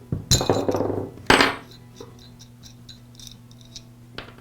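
A 10mm nut being removed from the pinion shaft of a DeWALT angle grinder during a front armature bearing repair, with two sharp metallic clanks of the tool, then faint light ticks and a final clink, no talking.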